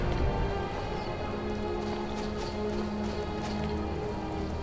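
Steady rain falls in The Elder Scrolls V: Skyrim, a continuous even hiss of drops pattering on surfaces, close and unbroken throughout with no voices.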